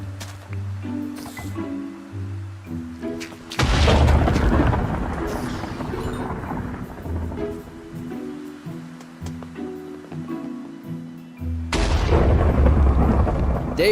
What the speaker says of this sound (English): A lightning bolt struck onto my sheep farm and spawned in multiple skeleton horse jockeys.